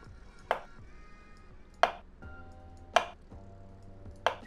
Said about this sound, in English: Chopping them up, baby.